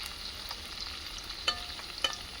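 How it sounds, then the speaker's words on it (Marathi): Momos frying in a pan give a steady, quiet sizzle with faint stirring, and a couple of sharper crackles and pops stand out. "अशा प्रकारे आता फ्राय पण करते मोमोज ना मी फ्रेंड्स"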